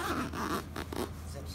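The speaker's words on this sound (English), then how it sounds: "start zipping" Zipper on a CLAM quick-set gazebo being zipped closed, short rasping strokes close by with brief pauses, a voice talking faintly underneath.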